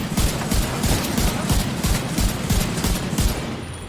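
Automated turret in The Division 2 firing a steady rapid burst of rounds, loud and close, continuous rattling with regular sharp reports throughout, no voices.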